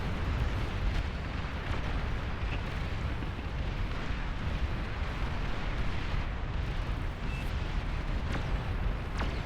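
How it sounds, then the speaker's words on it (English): Chained unit explosions in the real-time strategy game Beyond All Reason, a dense, continuous roar of overlapping blasts and booms that stays loud throughout without pause. "so that's just a chain explosion"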